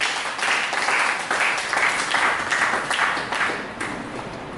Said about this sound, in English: Give a clap of me unto God.